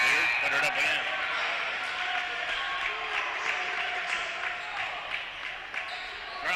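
Crowd noise at a men's college basketball game between Mount St. Joseph and Defiance College after a made shot, a sustained roar with scattered cheers and court sounds beneath a commentator talking throughout.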